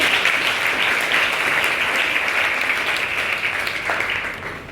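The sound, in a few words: audience clapping for the cadets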